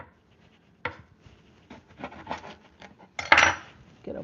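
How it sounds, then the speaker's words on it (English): A knife slicing through a lemon on a board in a kitchen, with a few soft knocks and one sharper scrape-and-tap burst near the end, close and fairly quiet. "so let's cut a lemon"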